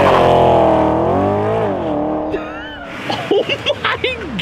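A 2015 Porsche Panamera GTS driven hard on a mountain rally drive, its engine note rising and falling in a loud, sustained roar, followed by sharper bursts and shouting voices near the end.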